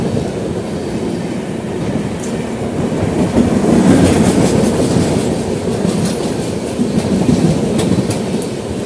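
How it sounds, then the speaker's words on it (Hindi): The Satyagraha Express passenger train running on rails just after leaving New Delhi, heard as a loud, steady rumble with rhythmic clickety-clack of wheels over rail joints, close and continuous, no voices. "अभी न्यू दिल्ली से निकली है सत्याग्रह एक्सप्रेस है ये।"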